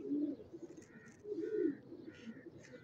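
Domestic pigeons, prized red fancy birds in a loft setup, coo softly in a few low, rolling phrases with brief pauses, close by and without talk.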